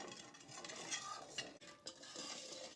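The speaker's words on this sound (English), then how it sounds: "Now we'll stir this, dissolve the jello before we add the cold water." Jello is stirred into boiling water in a pan, giving quiet scraping and swishing with light clinks from the utensil against the pan.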